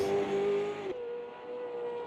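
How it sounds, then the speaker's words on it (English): Race cars in the sim racing game Automobilista 2 roar past at full throttle, a loud sustained engine whine that drops in pitch as a car goes by, with the engine tone continuing more quietly afterward. "they're really driving the cars to the limit"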